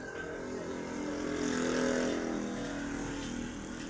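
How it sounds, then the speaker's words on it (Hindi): A feed pellet machine for goats, powered by a Peter engine, runs with a steady mechanical drone that swells slightly louder midway before easing back, continuous and close, with no talking. "ये फीड पैलेट मशीन है और ये पीटर इंजन लगा हुआ है।"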